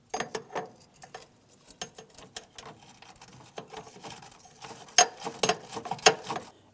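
A wire brush or sandpaper scrubs the battery mounting area on a 2007-2014 GMC Sierra 2500 HD in short, irregular scratchy bursts, close and quiet, with pauses in between.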